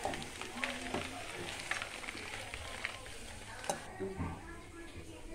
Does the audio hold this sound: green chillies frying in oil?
yes